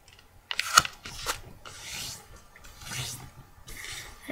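Paper being folded and unfolded for a paper X-wing, with a sharp crinkle near the start followed by softer rubbing and creasing swishes close by in a quiet room.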